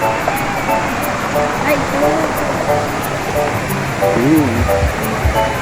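Daranak Falls in Tanay, Rizal roars as a constant broad wash of falling water, and people talk over it nearby.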